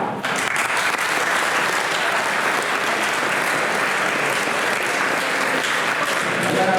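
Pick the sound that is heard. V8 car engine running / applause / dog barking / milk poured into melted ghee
applause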